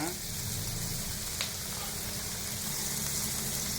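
Pork ribs for Peking pork ribs fry in a pan with a dense, continuous close sizzle, steady and hissing throughout with no break.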